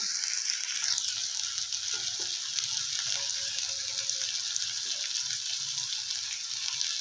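Chopped tomatoes frying in a pan for a North Karnataka style potato palya, giving a steady, bright sizzle throughout with a few faint stirring clicks beneath.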